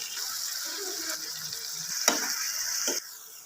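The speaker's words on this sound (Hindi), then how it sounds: "अब इसको मैं दूसरी साइड को भी उतना ही टाइम जो है ये फ्राई करूँगा और हल्की आंच पे करूँगा" Chicken tikka boti pieces fry over low heat in a pan, a steady broadband sizzle with a few sharp clinks and scrapes as pieces are turned, ending abruptly near three seconds into quieter hiss.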